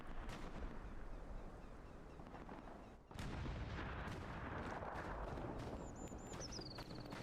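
Grenade blast in a World War II multiplayer shooter match: a dense, loud wash of explosive rumble and battle noise, with a sharp break midway as a fresh burst swells back in, continuing without speech.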